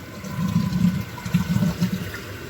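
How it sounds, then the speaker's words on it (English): A toilet flushes after a wax ring repair, a close, steady rush of swirling water that surges and churns for the whole stretch. "we'll flush it a couple times just to make sure"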